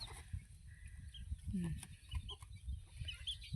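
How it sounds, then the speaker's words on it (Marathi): A hen clucks in short agitated bursts while being chased and grabbed outdoors at home in the evening, with voices talking and calling over the bird's squawks and scuffling. "हा बाबू, कोणाची कोंबडी बाबा? धर तिला, धर"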